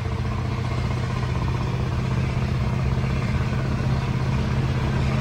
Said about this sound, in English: With an E9 Mack engine in it. She sounds ignorant.